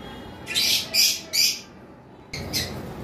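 A lovebird gives a few loud, harsh squawks in short bursts while being caught by hand, separated by brief pauses, with a final squawk after a moment of quiet.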